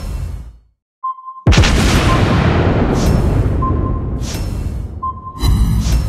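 Heavy naval gunfire from the battleship Roma in a warship video game: a sharp pop, then a loud, sustained booming blast with rumbling tail and a second burst near the end, with faint electronic beeps underneath.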